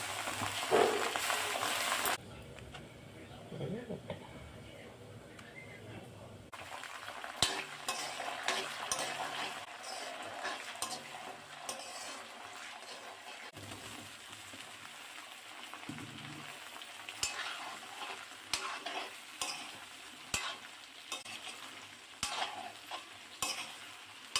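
Chopped onion, garlic and curry leaves fry in a pan, a soft sizzle with intermittent stirring scrapes and clinks across a long stretch, fairly quiet and without talk.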